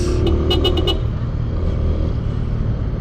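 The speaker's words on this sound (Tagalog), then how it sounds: "Ang ganda ng busina natin talaga." Several short, sharp car horn toots in quick succession over steady traffic and engine rumble, close by on a city road in the Philippines, followed by continuing road noise.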